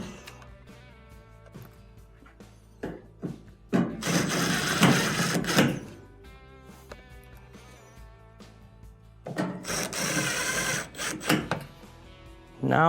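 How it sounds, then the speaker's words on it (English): A power screwdriver drives the three front screws back into a GE washer's main control board. It gives two loud whirring bursts a few seconds apart, with quieter clicks and handling noises before and between them. "Now we can reinstall the 3 screws on the front."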